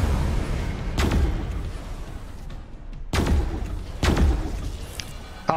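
Ship weapons fire in the space game Pulsar: Lost Colony, several loud booming thuds at irregular intervals over a steady humming engine background, with no talk.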